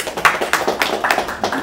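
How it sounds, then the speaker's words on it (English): Audience clapping at an IT summit press conference, a dense burst of hand claps that stays steady and fairly loud throughout, with no voices over it. "Let's give her a round of applause."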